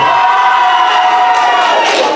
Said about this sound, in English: let's hear a big cheer for this section over here